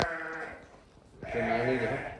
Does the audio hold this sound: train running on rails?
no